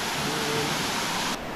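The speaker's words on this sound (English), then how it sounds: "You know I gotta bring y'all to the nice waterfalls" Waterfall in Diego Martin, Trinidad, a steady broadband rush of falling water, loud and close, with no voices over it.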